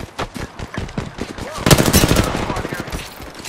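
Apex Legends firefight with close, loud bursts of automatic gunfire and rapid repeated shots, with a character voice talking over part of the shooting.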